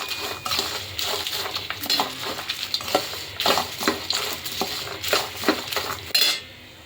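Spices, chilli powder and salt being stirred into a poha mixture in a pan, with busy rhythmic scraping and clinking of a spoon against metal over a light sizzle, close up and without speech.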